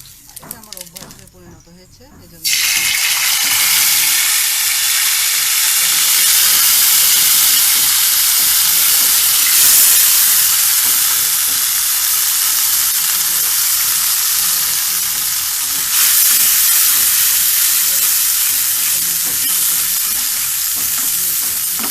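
Cumin and black cumin seeds hit hot cooking oil with a loud, steady crackling sizzle that runs unbroken for most of the time, after a few brief knocks and a short voice at the start.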